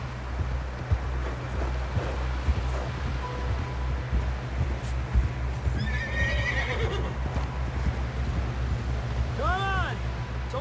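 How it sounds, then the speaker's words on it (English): Horse hooves clip-clopping at a steady pace in the Western game Red Dead Redemption 2, close and continuous under a low engine-like drone, with a couple of horse whinnies and brief tonal calls near the end. "Someone help John down off this horse."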